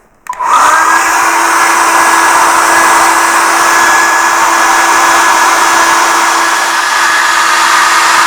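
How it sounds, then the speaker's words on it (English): A hair dryer blowing on beeswax to melt it into a carved wooden hare's head; it switches on abruptly and then roars steadily and loudly, close by, with a constant whine. "and then I get my hairdryer, which will make a bit of a noise"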